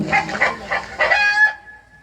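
A human voice imitates a rooster's crow, with several rising calls that end in one long, drawn-out note. It is loud and close and heard alone during a devotional storytelling performance.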